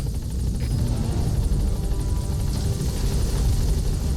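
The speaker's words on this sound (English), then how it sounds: "Support helicopter has arrived." In the video game Metal Gear Solid V, a support helicopter arrives with a loud, steady rotor roar and heavy low thumping that fill the whole stretch.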